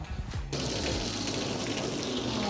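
Water gushes steadily from a garden hose into a dog pool outdoors, a loud continuous splashing and rushing after a brief start.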